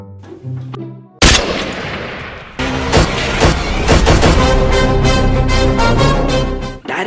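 Dense, loud gunfire from the battle royale video game PUBG: a sharp opening shot followed by rapid repeated bursts and rattling automatic fire that continue without pause.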